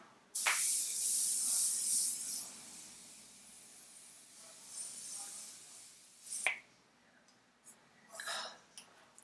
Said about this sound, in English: I'm gonna spray everything down with setting spray.